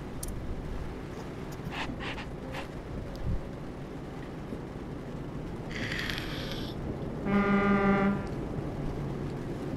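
A deep truck horn in Euro Truck Simulator 2 video game sounds one long, loud, buzzy blast near the end, following a brief higher tone and engine and road rumble.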